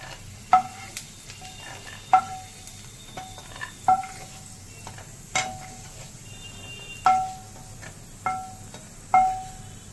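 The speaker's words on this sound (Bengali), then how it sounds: "এবার তুলে নিচ্ছি বাদামগুলো।" Peanuts sizzle in hot oil while a spoon or slotted ladle scoops them out, giving a steady frying hiss broken by about eight sharp scraping clinks against the pan.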